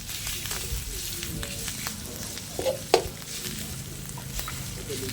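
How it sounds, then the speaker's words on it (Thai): Minced pork stir-fried in curry paste, a soft sizzle with scraping spatula strokes and a couple of louder knocks against the pan, close, with faint speech now and then. "เราก็จะใส่หมู ที่เราสับไว้นะคะ ใส่ลงไปเลยจ้า แล้วก็ผัดหมูให้สุก"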